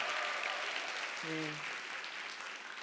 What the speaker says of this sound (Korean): 장미란 선수를 여러분께 큰 박수로 함께하도록 하겠습니다.